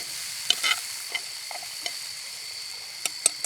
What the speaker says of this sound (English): we'll get these all sauteed up nice